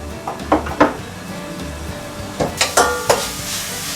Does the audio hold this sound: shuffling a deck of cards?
no